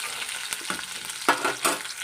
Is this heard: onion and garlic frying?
yes